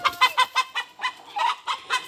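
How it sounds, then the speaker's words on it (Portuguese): A hen clucks close by in a rapid, steady series of about nine short clucks, evenly spaced, with no other sound. "Tem galinha aqui,"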